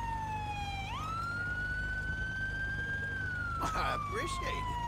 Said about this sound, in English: if you would turn off your siren, that would have been perfect